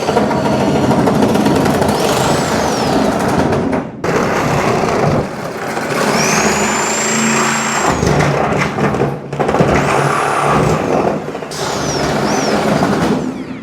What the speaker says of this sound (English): Sawzall is really handy for some of this too.